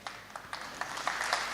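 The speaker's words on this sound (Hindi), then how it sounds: "तालियां कमजोर है," Sparse, weak audience clapping at a mushaira in Bhiwandi, a handful of scattered claps building slightly toward a thin patter, fairly quiet.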